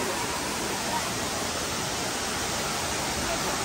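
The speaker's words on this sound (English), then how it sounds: "you can see inside the water, the waterfall, there's too much water at the top" Indoor waterfall in the Cloud Forest dome at Gardens by the Bay, Singapore: a dense, constant roar of heavy falling water, loud and steady from start to finish with no change in level.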